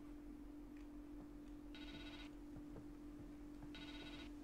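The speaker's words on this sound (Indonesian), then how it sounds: "ada telepon" A telephone in a video game rings in two short, quiet bursts about two seconds apart over a faint steady background hum.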